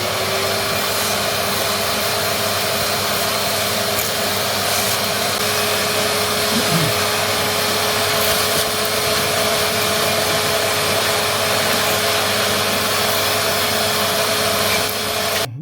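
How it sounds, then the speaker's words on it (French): A vacuum cleaner runs steadily for a long stretch, sucking up dust left from drilling while a fixed anchor point for a motorcycle is installed, with a constant loud whine and airy roar. "Maintenant, un petit coup d'aspirateur, on va nettoyer tout ça pour laisser tout propre."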